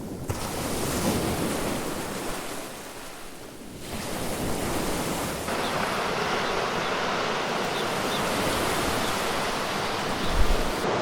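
Baltic Sea waves surge onto a Kołobrzeg beach as the wind picks up, a broad, steady roar of surf and wind noise that holds loud and close throughout, with a brief dip early on.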